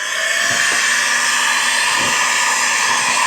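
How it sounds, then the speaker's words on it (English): A heat gun blows a steady, loud hissing roar while heating window tint film on a 2026 GMC Yukon Denali, unbroken for the whole stretch. "and then I will go through with my heat gun"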